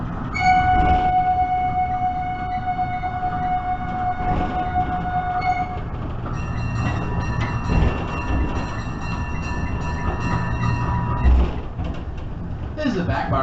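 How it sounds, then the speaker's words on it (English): A zoo train rolls into Trout River station at Jacksonville Zoo, with a steady rumble and rattle of the cars, a long sustained horn-like tone early on, and a brighter whistle-like tone later, heard close up and continuous. "As we enter our Trout River station, please keep your head, arms, legs, and feet inside the train"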